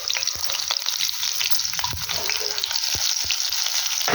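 Cumin seeds with crushed garlic sizzle in hot oil for a pumpkin sabzi, a dense continuous crackling hiss close by with a few sharp pops and light stirring taps throughout.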